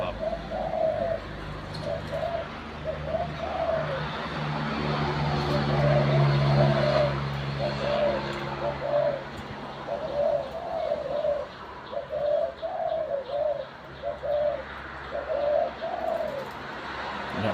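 Decoy doves coo in a steady repeating rhythm of soft rounded calls, fairly close, over a low background rumble of passing traffic.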